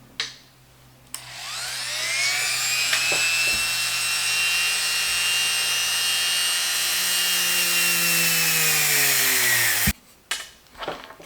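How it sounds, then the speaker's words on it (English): A small power drill drills small holes for tiny magnets, whining at a steady high pitch for several seconds, its tone sagging slightly as it bites, then cuts off with brief clicks. "I'm gonna use my drill bit just to make the holes for these tiny magnets"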